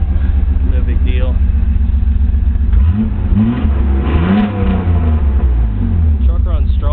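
A slammed, air-bagged Nissan Hardbody pickup's engine running close by, idling with a deep rumble before revving up several times in loud surges.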